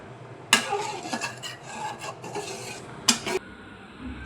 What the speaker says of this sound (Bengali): আমি একটু ডাল গুটনি দিয়ে গুটে নিচ্ছি